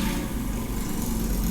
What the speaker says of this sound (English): A motorcycle's outside my apartment window,